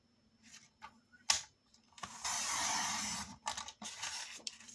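Cutting material for a folio, a few close taps and scrapes followed by one long, loud, steady cutting rasp lasting about a second and a half, then a few shorter sounds.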